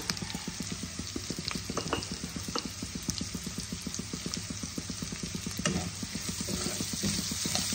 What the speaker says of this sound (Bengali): ভালো করে লাল লাল করে ভাজবো।